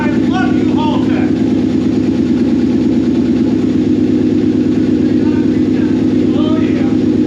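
Toyota Corolla fitted with a 1UZ V8 engine running after starting up, a steady loud lumpy idle close by, with excited voices talking over it.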